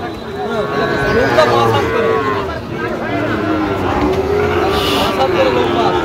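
Sahiwal cattle moo repeatedly at close range at a livestock market in Dhaka, several long lowing calls overlapping amid a busy crowd with people talking around them.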